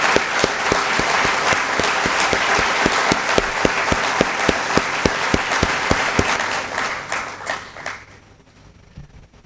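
An audience in a hall gives long, sustained applause: dense, steady clapping with a few sharper individual claps that carries on for several seconds, then fades away toward the end.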